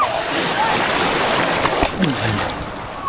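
Someone plunges into the sea at Shivrajpur Beach, with steady surf and splashing water throughout and a few brief splashes standing out, while voices talk over it.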